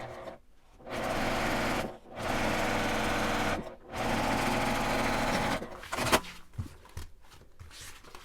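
Sewing machine stitching a seam on a nylon zipper pouch, running in steady loud bursts with two brief pauses, then stopping and giving way to fainter handling noises toward the end.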